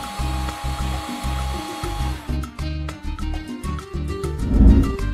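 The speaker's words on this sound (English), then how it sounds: "Then whisk cream in turbo function." Hand blender with an immersion wand whisking cream on its turbo setting, a pulsing, ratcheting motor whir that stutters in short bursts, then swells into a louder churning near the end.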